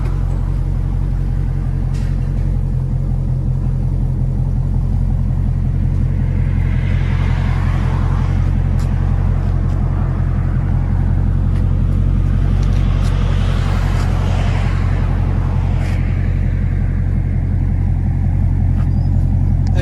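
A Dodge Charger with a 6.4L HEMI and aftermarket exhaust idles with a deep, loud, steady rumble and an even low pulse, with faint swells of hiss drifting in over the constant throb.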